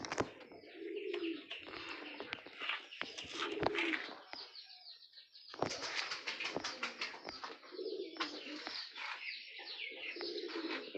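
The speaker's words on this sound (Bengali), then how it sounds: "দেখুন বাইরে সব পায়রাগুলো রয়েছে।" Pigeons in a loft coo in repeated soft, throaty phrases, with chirps and brief wing flutters, close by and alone.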